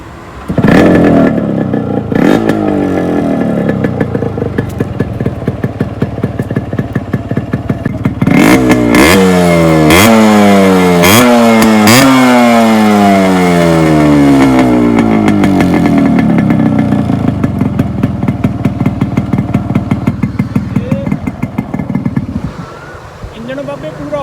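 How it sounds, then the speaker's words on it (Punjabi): A Yamaha RX 100 motorcycle engine, modified, cranks, catches, then revs up and down in repeated loud bursts before settling into a steady idle. "ਮੈਂ ਸਟਾਰਟ ਕਰਕੇ ਦਿਖਾਣਾ ਤੁਹਾਨੂੰ ਮੋਟਰਸਾਈਕਲ ਦੀ ਸਟਾਰਟਿੰਗ ਚੈੱਕ ਕਰੋ"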